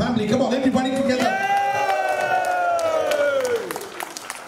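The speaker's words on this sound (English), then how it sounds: "Everybody, a big round of applause, and can we all make some noise for the family?" Applause and cheering from guests at a wedding reception, loud clapping with a long whooping voice over it that fades toward the end.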